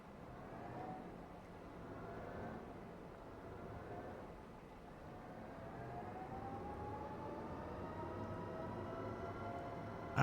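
A forklift pulling a train of trailers in Farming Simulator 25 rumbles along with a steady engine drone and a rising whine, moderately loud throughout and ending in a brief knock.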